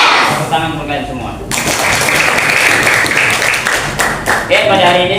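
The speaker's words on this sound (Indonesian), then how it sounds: "Tepuk tangan untuk kalian semua." Fifth-grade schoolchildren burst into loud applause in an elementary school gym class, starting as a teacher's voice trails off and carrying on steadily with scattered voices.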